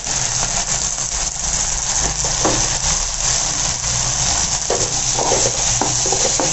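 Onions and tomatoes sizzling and frying in a pan with steady crackling, plus occasional scrapes and stirring clatter close by.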